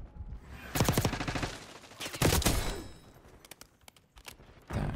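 Gunfire in the game Black Ops 6 comes in several rapid automatic bursts, loud and close, separated by short pauses and quieter trailing shots, with no talking.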